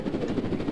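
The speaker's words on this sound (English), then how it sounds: "That's a helicopter." A helicopter in the Roblox Jailbreak game, a brief steady rotor chop with a rhythmic low whir, fairly close and alone.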